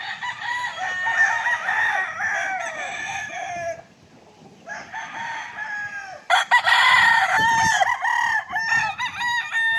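Roosters and gamefowl at a rainy game farm crow loudly and repeatedly, several birds overlapping near and far, with clucking between the calls.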